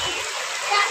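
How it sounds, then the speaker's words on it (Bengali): Rain falling on a cold, overcast winter day in a village, a steady broadband patter and splash heard up close, continuous and fairly loud for the whole moment with no other clear sounds. "এই বৃষ্টি হচ্ছে, বৃষ্টি বৃষ্টি"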